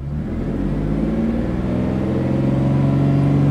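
A car engine with the air conditioning switched on revs up from a lowered idle, its steady hum rising gradually in pitch and loudness, heard close with no talk.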